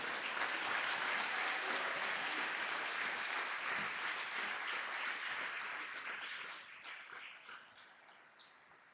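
An audience applauds after a children's performance at an official opening ceremony, the dense clapping sustained and loud before thinning and fading out toward the end.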